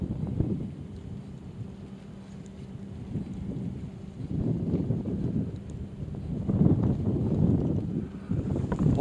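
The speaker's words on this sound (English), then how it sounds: "it's getting too windy" Gusty wind buffets the microphone in low rumbling surges while bank fishing, growing stronger toward the end, with no talking.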